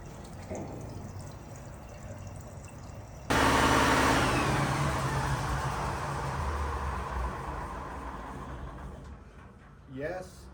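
A diesel engine vents its exhaust through a muffler by way of a manifold, starting abruptly into a loud, rough steady rumble that slowly eases, with a voice heard briefly near the end.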